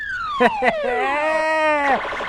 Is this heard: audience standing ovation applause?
no